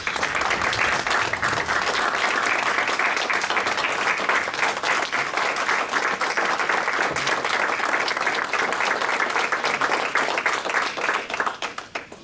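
A meeting audience applauds a retiring city officer, a dense, steady round of clapping from a room full of people that holds strong throughout and tapers off at the very end.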